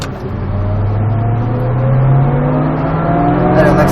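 Engine of a Ford Mustang Shelby GT500 accelerating on a track, a loud continuous drone rising steadily in pitch as it pulls harder, with a voice speaking over it.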